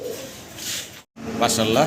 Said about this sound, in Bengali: এক জোড়া ম্যাকপাই ড্যানিশ কবুতর।